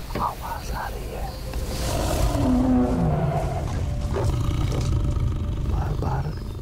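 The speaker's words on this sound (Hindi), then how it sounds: "बार बार ग्राउलिंग की आवाज आ रही है। इसका मतलब यही है कि टाइगर आस पास ही है" A tiger growling in the jungle, a sustained low rumbling roar swelling in the middle of the clip, close and prominent over a noisy forest background.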